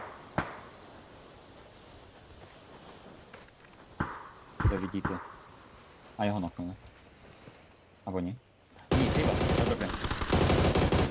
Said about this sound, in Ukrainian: По ним почали стріляти вроді.